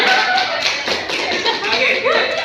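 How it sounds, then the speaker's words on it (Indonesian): A school audience at MA Hifal claps for a student named Balinda during a time-management lesson, a dense run of hand claps filling the whole stretch at steady loudness, with voices mixed in underneath. "Tepuk tangan dong buat Balinda"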